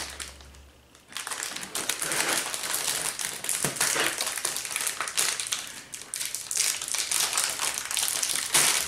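Plastic packaging on Peeps candy is crinkled, crushed and torn in loud, close, continuous rustling bursts after a quiet start, with no one speaking.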